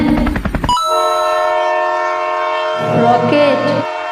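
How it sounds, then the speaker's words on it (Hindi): A train sound effect opens with a brief burst of clattering rail noise, then a loud sustained multi-tone horn blast holds, swelling again near the end. "ट्रेन"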